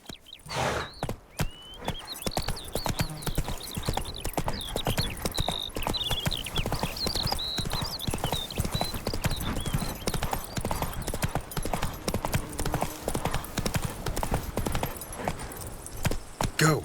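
Geralt's horse Roach in The Witcher video game, hooves clip-clopping in a steady trotting rhythm close by and fairly loud throughout, with a brief snort or whinny near the start.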